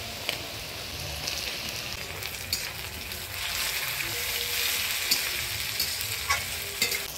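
Chopped tomatoes hitting hot oil in a pan with onions, sizzling and crackling steadily, with stirring scrapes and small pops rising and swelling midway.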